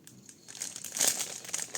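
Crinkling of an already opened packet of paper being handled, soft rustles that build into louder crackly crumpling bursts, close by with no talk.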